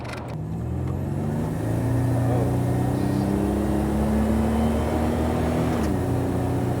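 A 1986 Buick Grand National accelerating hard, its engine note climbing steadily in pitch for several seconds before easing off at a gear change, loud and close throughout.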